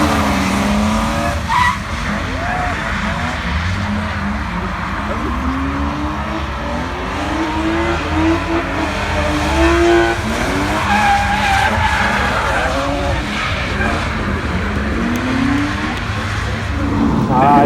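Drift car at a drift competition at Racewars skids through a run with tires squealing continuously, engine roaring loud and close throughout, overlaid with repeated rising and falling screech.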